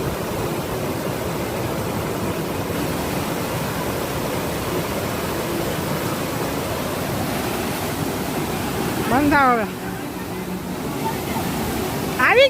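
A steady, full rushing roar of a waterfall pouring into a calm pool near Gop in Khad Khambhalia, Jamnagar, Gujarat. The noise stays constant and close, broken only by a brief voice near the end.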